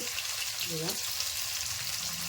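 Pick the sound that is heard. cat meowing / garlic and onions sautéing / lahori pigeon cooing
garlic and onions sautéing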